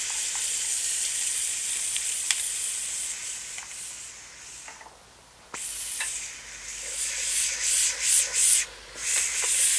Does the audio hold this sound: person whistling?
no